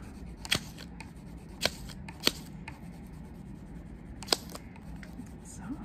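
Paper handled for a craft, giving a few sharp crisp rustles and snips spaced apart over a quiet background, close, with speech nearby.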